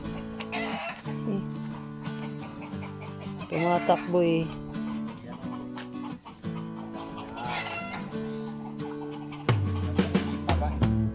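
Chickens cluck and squawk repeatedly nearby while people talk over them, with a sharper burst of commotion near the end as a chicken runs loose.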